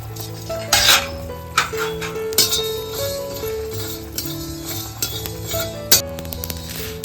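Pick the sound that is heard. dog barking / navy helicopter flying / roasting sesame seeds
roasting sesame seeds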